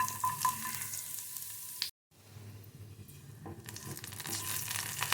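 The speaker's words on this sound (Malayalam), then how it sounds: "ഈ എണ്ണ ചൂടായി വരുന്ന സമയത്ത് 5 അല്ലി വെളുത്തുള്ളി ചെറിയ കഷ്ണമായി മുറിച്ചത് ഇതിലേക്ക് ഇട്ട് കൊടുക്കുന്നുണ്ട്" Five cloves of chopped garlic fry in hot oil in a pan for a broccoli-egg stir-fry, giving a soft, steady sizzle that cuts out briefly and then resumes quietly.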